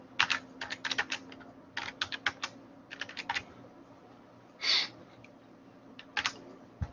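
Computer keyboard being typed on to enter a folder name, with quick clusters of crisp key clicks in short irregular bursts, a single heavier keypress near the end of the run, close and clear over faint room hum.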